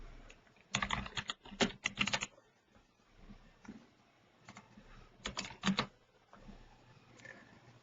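A computer keyboard is typed on in short bursts of rapid, close keystrokes separated by pauses, the clicking alone without talk.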